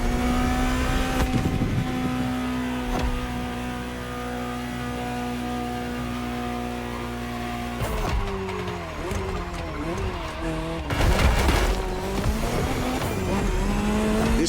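A Ferrari GTO, the 308-based Gran Turismo Omologato, howls steadily at high revs in The Crew Motorfest, then its pitch swoops and wavers through shifts and tire squeal before surging again, loud and continuous.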